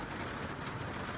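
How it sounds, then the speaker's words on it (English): Rain drums steadily on the roof of a car parked at a rest stop in Massachusetts, making a dense, continuous patter close overhead with no voices. "it's raining, as you can hear on the top of the car"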